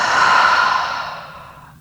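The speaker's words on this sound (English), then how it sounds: "Big breath out through the mouth." A single long, breathy exhale through the mouth during a relaxing bedtime yoga session, loud at first and fading steadily over nearly two seconds, heard close and on its own.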